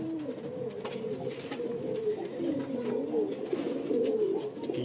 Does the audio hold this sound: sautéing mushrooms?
no